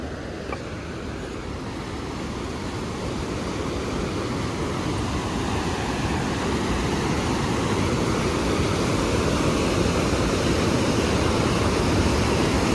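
A fast mountain river rushes with strong pressure close by, on the trail from Gobind Dham to Gobind Ghat on the Hemkund Sahib route. It makes a loud, steady, broadband roar that swells slightly and runs unbroken throughout.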